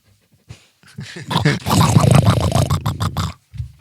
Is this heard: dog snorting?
yes